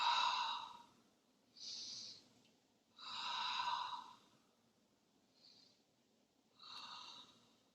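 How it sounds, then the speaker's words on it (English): Long breaths pushed out during a Pilates session, coming as several soft airy exhales with pauses between them, one of them fainter and shorter than the rest. "Exhale."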